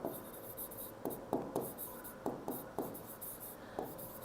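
Marker or chalk strokes on a board during a Class 12 maths lesson, a series of short scratchy writing bursts spaced irregularly, close and fairly quiet, with no talk over them.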